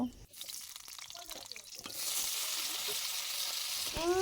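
Potatoes frying in a pan for a Bengali chire muri ghonto, a steady bright sizzle that swells after a short quiet stretch with some clatter, close and alone with no talking.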